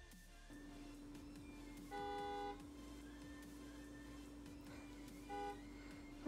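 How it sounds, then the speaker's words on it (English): Car horn honking outside, two brief steady toots a few seconds apart, faint and distant over a constant electronic hum and quiet background. "Thought they were gonna mess me up by honking their horn."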